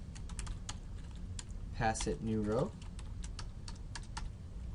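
Rapid clicks of typing on a computer keyboard run through the whole stretch, fairly close, while someone speaks briefly partway through.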